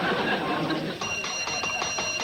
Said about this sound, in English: will you stop ringing that bell?